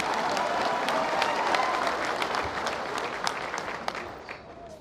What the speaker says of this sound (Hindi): बजाइए ना ताली